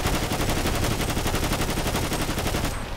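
Rapid automatic gunfire from an orange gun in Grand Theft Auto V, a loud continuous burst of shots that rattles on for nearly three seconds before cutting off.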